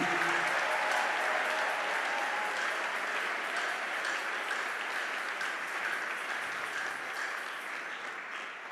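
A church congregation applauds steadily and loudly throughout, a dense, even wash of clapping that fades only slightly toward the end.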